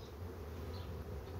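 Honey bees buzz around an open hive of a small spring colony, a soft continuous drone at close range with faint individual bees passing, no voices.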